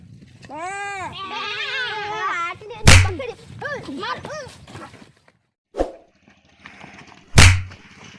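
A goat bleats in a few wavering, nasal cries, loud and close, mixed with people talking, sharp slaps and clatters in a village comedy scene.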